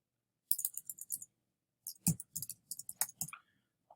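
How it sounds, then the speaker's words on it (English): Password typed on a computer keyboard, two quick runs of close, crisp key clicks separated by a brief pause, in a quiet room. "I'm going to type in my password"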